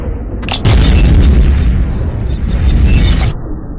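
An anime explosion from Killer Queen's third bomb, Bites the Dust: a short pop, then a loud, sustained booming blast that rumbles and roars for several seconds before cutting off.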